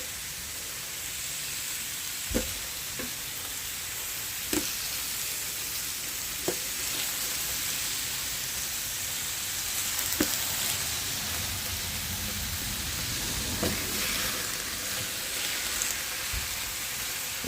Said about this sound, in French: on va faire revenir nos petites tranches de lard